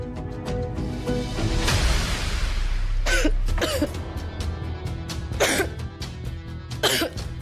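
A young woman coughs repeatedly indoors in a home scene, with several sharp, fairly loud coughs and throat-clearing bursts spread across the moment and no talk.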